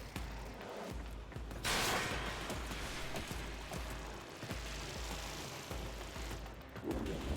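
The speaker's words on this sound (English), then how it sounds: "Just gonna have an explosion in the middle of this vault." A blast goes off inside a vault in the Warframe video game, a long loud rumbling burst with dense crackling and booming that stays sustained across the clip.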